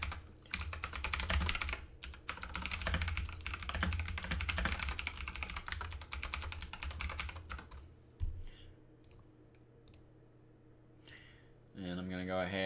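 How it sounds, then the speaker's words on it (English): Loud computer keyboard typed on rapidly and close up in bursts of clattering keystrokes, slowing to scattered key presses before a musical sound starts near the end. "You get to hear my loud keyboard again"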